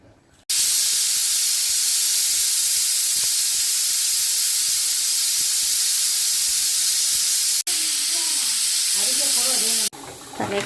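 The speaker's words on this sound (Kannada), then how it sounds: "ಕುಕ್ಕರ್ ಮುಚ್ಚಿ 8ರಿಂದ 10 ವಿಷಲ್ ಕೂಗಿಸ್ಬೇಕು." A pressure cooker holding a head-and-trotters curry vents a loud, steady jet of hissing steam for almost ten seconds; it breaks off once, stops abruptly near the end, and a voice is heard faintly toward the close.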